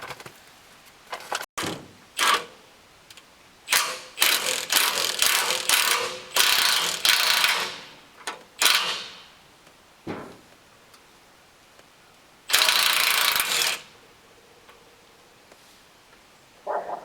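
Loud, repeated bursts of ratcheting from a hand ratchet breaking loose the bolts on an IMT crane hydraulic cylinder, heard alone in close, irregular runs of clicking with short pauses between them.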